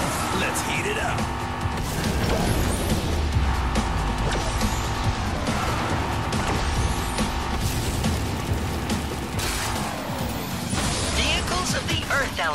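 Vehicles drive and crash in Skylanders Superchargers on PS3, a dense continuous mix of engine drone, impacts and effects mixed with game music and voices throughout.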